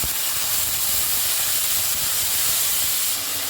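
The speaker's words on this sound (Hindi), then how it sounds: "बस इसी स्टेज पे मैं इसमें अब मटर ऐड करूँगी" Green peas hit a hot pan of well-browned potatoes for aloo methi matar, giving a loud, steady sizzling hiss that runs evenly throughout with no talk over it.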